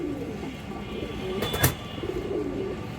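A female Khoira-gola pigeon at a pigeon market stall gives soft, low cooing phrases, faint and close, under a murmur of background noise with a brief metallic clatter midway.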